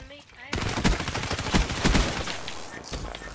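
Rapid bursts of gunfire in Call of Duty: Black Ops III start abruptly and keep up with sharp repeated shots, loud and close, with brief voices mixed in.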